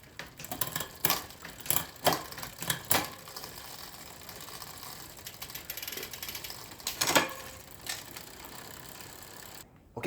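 A newly waxed bicycle chain runs over the gears with rapid ticking and clicking, broken by several sharp, louder clacks. The sound is close and uneven, then cuts off at the end.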